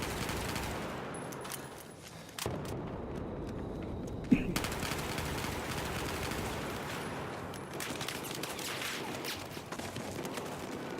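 Gunfire in Battlefield 4 during a tournament match, rapid automatic bursts rattling faintly and steadily in the distance, with one sharper shot standing out partway through.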